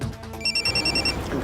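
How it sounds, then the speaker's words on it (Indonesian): A mobile phone rings with a bright, electronic trilling tone in repeated short pulses, fairly clear over a low background hum in a quiet indoor space; no one speaks. "gue lihat HP-nya dia bunyi terus"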